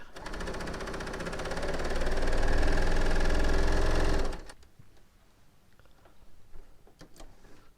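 A Bernina L890 sewing machine runs steadily for about four seconds stitching metallic chain stitch strips, a loud even whirr that stops abruptly, followed by faint handling clicks.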